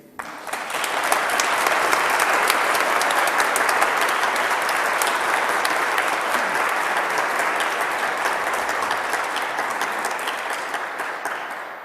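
A large audience at an alumni awards convocation gives a rousing round of applause, dense steady clapping that swells quickly and holds for about ten seconds before gently tapering.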